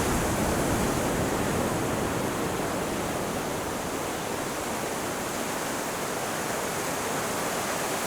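Steady, dense wash of surf noise, a constant roar of waves without breaks or voices.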